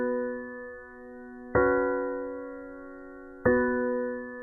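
Piano chord sample resampled at a 6000 sample rate in Edison with tempo sync, giving a dulled, band-limited tone; two sustained chords land about two seconds apart and ring out softly, with no talking.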